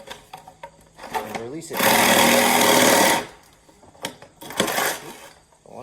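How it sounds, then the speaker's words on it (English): A Sawzall reciprocating saw cuts through a timber truss for a custom home build in one loud, rasping burst of over a second, with a person talking briefly before and after. "Take my friend the Sawzall"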